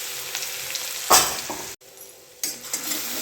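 Cumin seeds and finely chopped green chili hit hot oil in a pan, a sharp sizzle bursting up, a brief pause, then frying resuming with stirring and light clinks of utensils against the pot.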